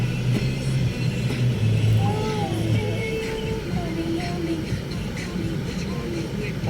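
Road traffic rumbles continuously around a moving car near Futura Monte in Naga, with engine drone and passing vehicles, while faint voices occasionally sound beneath the noise.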